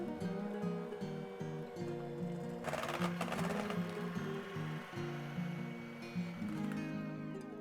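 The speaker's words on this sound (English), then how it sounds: "now we're just going to mix it up until it's well combined." Rum cake batter made from cake mix, dark rum and four large eggs is being mixed, most likely by an electric mixer, giving a steady mechanical whirring hum with a brief louder rattle midway and no voices.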